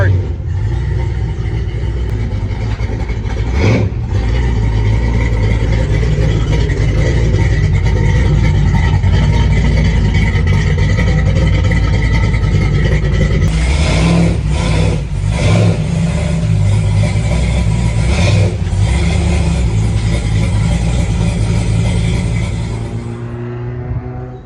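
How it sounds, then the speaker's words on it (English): Race cars circle the track at Bakersfield Speedway during American Stock racing. A loud, continuous engine rumble and revving drone sustains throughout, swelling and easing slightly as the cars pass. "We are at the racetrack right now. The car's out there."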